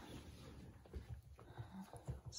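Faint puppy whimpers and soft panting come in small, irregular bursts, close but quiet against a low background hiss.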